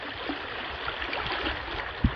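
A flooded river runs over the top of a bridge after heavy rain, a constant rushing, gurgling wash of water close by, with a single low thump near the end.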